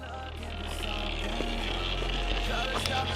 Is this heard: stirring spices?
no